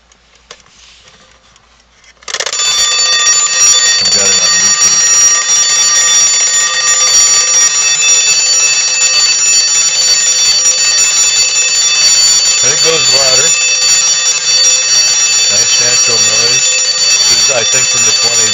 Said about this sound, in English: And we give you a little bit of the alarm treatment